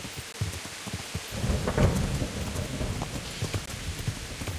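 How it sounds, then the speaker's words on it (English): Rain and a rolling rumble of thunder inside the video game Kingdom Come: Deliverance, steady rainfall hissing throughout while a low thunder roll swells in the middle and fades; no talking. "I wish this rain would stop."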